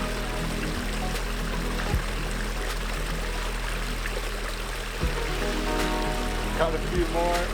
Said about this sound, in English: I'm going to fill this jar up with water.